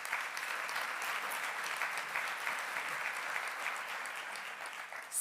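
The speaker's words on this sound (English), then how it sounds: "So please give my panelists another round of applause of welcome." An audience at a conference closing plenary claps for the panelists, a steady wash of applause from a sizable crowd lasting throughout, moderately distant and even in level.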